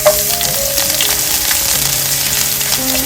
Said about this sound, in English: Once the oil is heated, add in the onions.